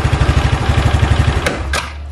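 An Easyride 150P motorcycle idles steadily after the electric starter, its low engine pulse thumping evenly and close, broken near the end by a couple of brief clicks or knocks.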